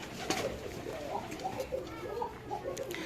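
Pigeons coo repeatedly at a pigeon farm, soft rounded calls rising and falling in a steady overlapping rhythm close by, with a faint wash of background noise and occasional voices.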